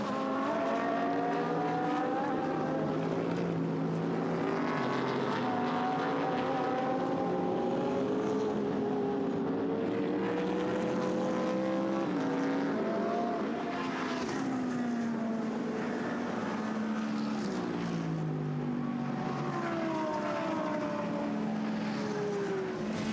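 GT race cars lap the Nürburgring circuit during Blancpain Endurance Series free practice, their engines droning continuously with rising and falling pitch as they pass and shift, loud and steady throughout.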